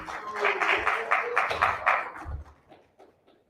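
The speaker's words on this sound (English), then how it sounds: "You want to give them a round of applause?" Applause for a Juneteenth presentation team at an indoor community event, a few seconds of clapping from a small crowd that tapers off into quiet.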